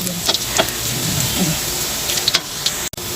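Garlic sautéing in a pan until golden brown, a steady close sizzle and hiss of hot oil with occasional light stirring clicks throughout.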